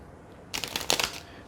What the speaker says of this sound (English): let's get 3 cards from the Flower Petals mini cards.